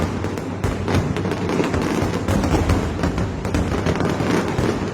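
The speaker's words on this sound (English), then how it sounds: "But those fireworks look so bright." Fireworks explode in a played video, a dense, continuous run of crackling bursts and pops at steady loudness for several seconds. No one speaks over them.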